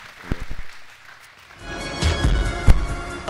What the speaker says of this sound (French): On applaudit le Seigneur pour Edouard.